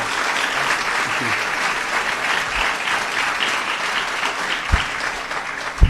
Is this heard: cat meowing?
no